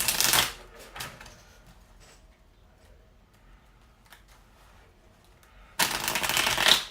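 Tarot cards riffle in a loud shuffle at the start, then a quiet pause with a few soft taps, before another long riffling shuffle near the end.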